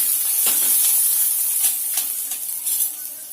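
Urad dal and chana dal frying in hot oil in a kadai, giving a steady close sizzle and hiss with a few brief crackling bursts, no talking.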